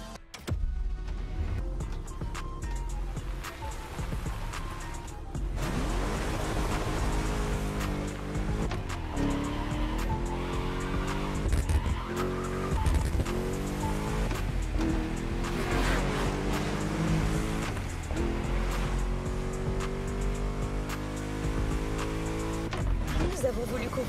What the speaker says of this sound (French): drift sur l'asphalte au milieu des néons